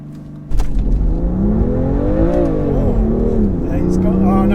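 A stock BMW M2 Competition launches hard for a 0-60 run, engine revving up in rising pitch through a gear change, loud from inside the car while people talk over it.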